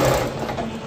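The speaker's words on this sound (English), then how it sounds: "That is sewing machine." A sewing machine runs continuously in a brief, steady mechanical whir, close and fairly loud, without pauses or talk.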